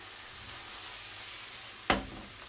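Garlic and onions fry in a pan with a quiet, steady sizzle, broken near the end by one sharp scrape or clack as they are stirred, followed by continued frying hiss.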